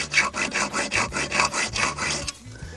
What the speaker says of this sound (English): I'm trying to fit a whole hacksaw in there.